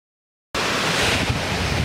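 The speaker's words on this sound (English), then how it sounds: "going to the natural waterfall now." A steady, loud rush of falling water roars up after half a second of silence and continues without a break, a broad wash of noise.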